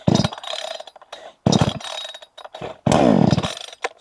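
Starter cord of a Vitals BKZ 5634j gasoline chainsaw pulled gently several times, giving three loud ratcheting whirs separated by short pauses, close up and without talk.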